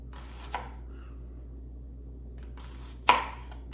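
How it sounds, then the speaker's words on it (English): Two sharp knife strikes on a cutting board while mincing a shallot, one early and one near the end, separated by a quiet pause with no talking. "I'm just chopping it up. We're going to mince it, just make it very small."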